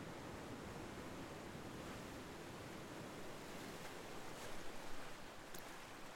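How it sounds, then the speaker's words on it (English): Waves from Lake Michigan wash against the shore in a constant soft roar of surf, fairly faint and uninterrupted, with a slight swell in loudness near the end. "the sound of Lake Michigan's waves crashing against the shore had gone completely unnoticed by me"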